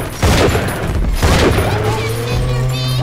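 A mini turret fires in BioShock 2, loud bursts of rapid gunfire and booming impacts give way to a steady mechanical hum and ringing tones.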